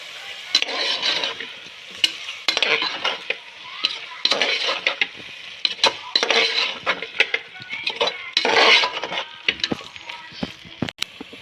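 Masala sautéing in a pan for mushroom biryani, with repeated stirring strokes of a metal spoon scraping and clinking against the pan over a soft sizzle, close and irregular in rhythm.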